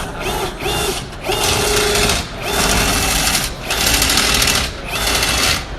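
A RIDGID FlexShaft drain cleaning machine whirs and rattles loudly up close, its spinning cable shaft retracting in surging waves that rise and dip every second or so.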